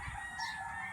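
Hens clucking and crowing in a steady, busy barnyard chorus, fairly close, with no talking.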